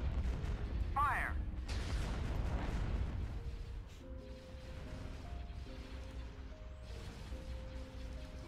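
Heavy cannon fire from warships in a Star Wars space battle game, a dense run of booming blasts and mechanical clatter in the first few seconds, then a quieter stretch of sustained tones and hum.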